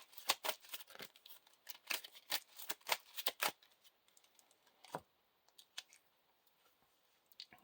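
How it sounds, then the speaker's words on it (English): Cards being shuffled close up during a Lord of the Rings card game, a quick run of crisp riffling clicks that thins into a few sparse taps, with no talking. "Shuffle the encounter deck."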